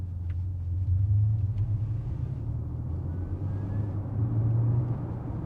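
Simulated sporty S Engine sound from a 2023 Genesis GV70 Electrified SUV, a deep, continuous rumbling hum that swells and eases a few times, steady and fairly loud throughout, with no voices.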